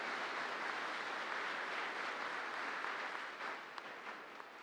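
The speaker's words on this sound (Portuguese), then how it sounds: "Vamos acolher o Henrique com uma forte salva de palmas." Congregation in a cathedral applauding to welcome a new seminarian during Sunday Mass, a steady, moderately distant wash of clapping that holds evenly and thins slightly toward the end.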